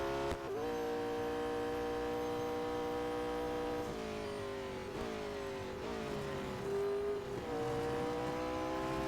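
A car engine in the racing game Real Racing 3 drones steadily and loudly, its pitch rising and dipping as the car shifts and revs through corners, with a faint hum beneath and no talking.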